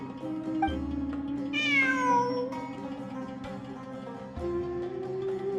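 A cat meows in a video game, a few short rising and falling calls over steady ambient game music, with no talking.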